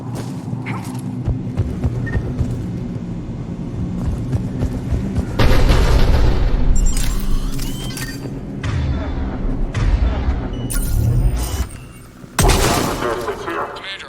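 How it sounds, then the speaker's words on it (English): Heavy booming cannon blasts and rumbling explosions in a loud Mass Effect Legendary Edition battle on Tuchanka, with bursts of gunfire-like cracks and a voice talking over the din. "The cannon fire's clearing the way."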